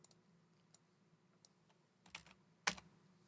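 Typing on a computer keyboard while entering drawing values: a few sparse light key taps, then a louder cluster of clicks near the end, close and quiet.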